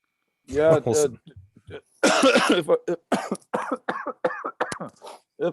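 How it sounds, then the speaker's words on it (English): A couple of sharp, close coughs ring out, followed by a person talking in short bursts. "I've developed a bit of a cough here the last few days"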